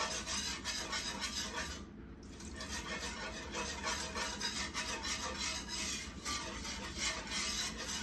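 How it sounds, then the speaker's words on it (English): A whisk stirs milk into gravy in a pan, making a continuous fast scraping and swishing with a quick repeating rhythm, close and fairly loud, with no talking. "I'm going to start pouring the milk in just a little bit at a time and whisking that gravy smooth each time"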